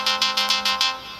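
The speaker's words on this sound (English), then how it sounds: "I got a phone call" A phone rings with an incoming call, six quick evenly spaced electronic chirps over a steady tonal hum, loud and close, then the pattern stops.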